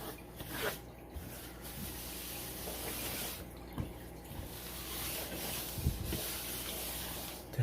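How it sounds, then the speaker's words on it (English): Water runs steadily in a continuous hiss and splash, with a few brief knocks and soft bumps breaking through, and no talk over it. "Where did that water come from?"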